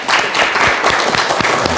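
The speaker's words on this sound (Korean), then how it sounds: "Let us applaud Him in glory." Church congregation clapping in glory during a sermon, a dense, steady burst of applause filling the room for a couple of seconds.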